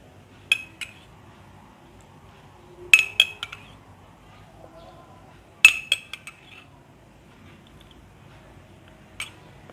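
A mixture stirred with water in a bowl, sparse clinks of a utensil against the bowl in short bursts separated by quiet gaps, close and fairly crisp.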